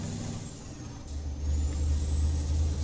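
A truck engine in Euro Truck Simulator 2 rumbles low and steady, then swells louder as it picks up speed, with a brief hiss near the middle and no voices.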